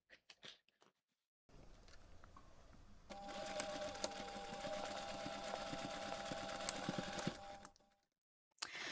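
A sewing machine stitches across pen pockets on a bag, running in a long steady whirring burst with rapid needle clatter, preceded by a quieter start and a few handling knocks before and after.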